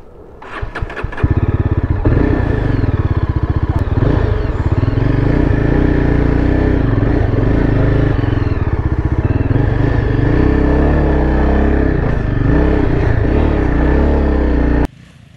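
A fully loaded Yezdi Adventure motorcycle starts up and rides off, its engine settling into a loud, close, steady thrum with rough clatter and slight rises in revs, then cutting off abruptly at the end.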